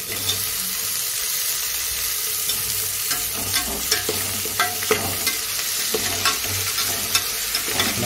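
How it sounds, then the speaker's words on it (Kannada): Tomatoes hit a hot pan for mushroom biryani, a continuous close sizzle of frying with repeated scraping stirs of a spoon through the mixture, no voices. "ನೋಡಿ, ಟೊಮೆಟೊ ಹಾಕ್ತಾ ಇದ್ದೀನಿ."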